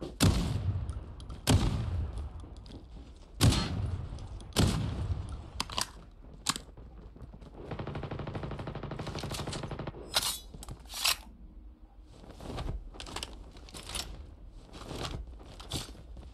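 Shotgun blasts from a video game, several sharp booming shots spaced a few seconds apart, loud and close, with a stretch of steady buzzing noise between bursts.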